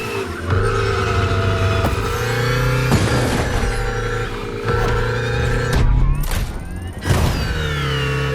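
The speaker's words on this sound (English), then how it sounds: "This car accelerates like hell." A car in The Crew Motorfest accelerates hard, its engine revving loudly through repeated gear shifts in a continuous roar, with bursts of explosive crashes and booms between runs.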